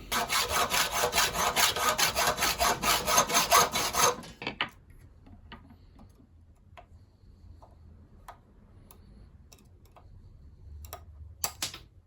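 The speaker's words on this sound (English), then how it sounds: "maybe the simpler thing to do is to cut the rivet out" A rivet inside an Allez U lock is cut out, giving about four seconds of dense, rapid rasping cuts close by, then near quiet broken by a few sharp taps and clicks of metal.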